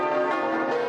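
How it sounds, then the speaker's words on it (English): Church bells of Notre Dame in Paris ring out, a dense, sustained metallic peal with rich overlapping harmonics, loud and steady throughout with no voices. "the church's bells will ring across Paris once again"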